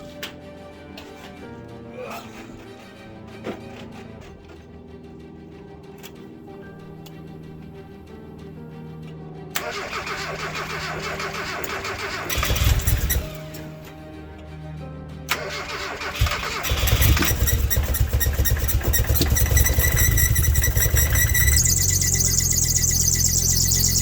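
A Mazda MX-5 engine cranks and catches, then runs with rising revs and a squeal, loud and close, after a stretch of quieter mechanical noise.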